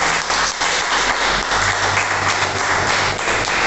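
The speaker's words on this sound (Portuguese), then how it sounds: "Aplauda o Senhor pela vida do Deus." A church congregation at a bishop-led service breaks into loud, dense applause that fills the room evenly and steadily from start to finish.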